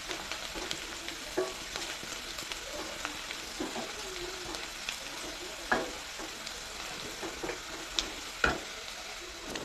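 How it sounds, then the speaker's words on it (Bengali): Spices fry in hot mustard oil in a pan, giving a steady, soft sizzle with occasional sharp pops and clicks of stirring, and no talking. "এখন মশলাগুলো আমি লাল লাল করে ভেজে নেব।"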